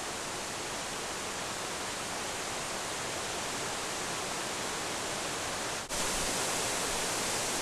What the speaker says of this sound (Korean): 수락계곡의 자랑 수락폭포가 반가이 맞는다